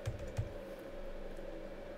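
Numbers being typed into a data chart on a computer keyboard: a couple of soft key taps at the start, then a quiet steady room hum, faint and close.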